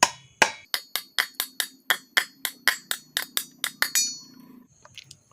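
Pliers strike hard on the metal shaft of a kitchen mixer jar during repair, about fifteen sharp ringing metallic knocks in a quick, fairly even rhythm, then a brief scrape and silence.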